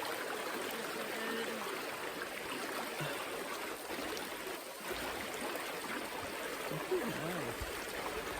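A mountain river flowing past a river beach in the Beartooths, a steady, close broadband rush of moving water that continues throughout with no talk.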